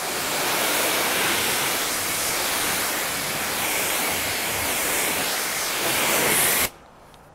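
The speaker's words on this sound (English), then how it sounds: "as far as the water, the way it's hitting the paint and flying off" Steady hiss of water spraying onto car paint during a DIY car wash in direct sun, loud and continuous for several seconds, then cut off abruptly near the end.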